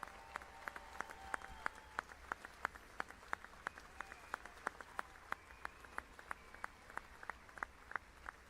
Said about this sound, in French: en applaudissant très fort Sadhguru